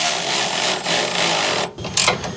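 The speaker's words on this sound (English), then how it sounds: "Here I'm just using a flex head ratchet with a 17mm socket, and we're able to get on that nut" Flex head ratchet with a 17mm socket tightening a nut on a rear suspension install for a 2019 Toyota Sequoia: a close, continuous run of fine clicking ratchet strokes, with a short pause before it resumes.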